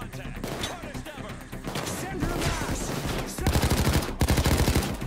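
Sniper and rifle gunfire in the heist video game PAYDAY 2, bursts of loud rapid shots cracking close and overlapping, growing denser and more rhythmic toward the end, with game noise underneath.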